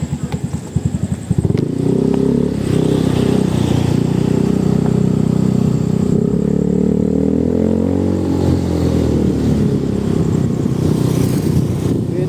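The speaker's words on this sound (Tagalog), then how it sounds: "Tinakbo lang motor mo." A motorcycle engine runs loud and close, settling into a steady rumbling idle with slight rises in revs after a clattery start.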